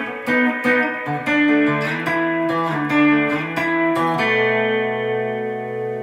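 Jangly electric guitar intro, played through an amp with chorus, reverb and light compression; shimmering picked chords ring out steadily, then settle into a sustained final chord, with no voices.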